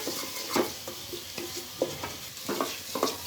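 Masala cooks with onion and tomato on a low flame for tinde (apple gourd) sabzi, a soft sizzle under repeated close spoon stirs and scrapes through the thick mixture.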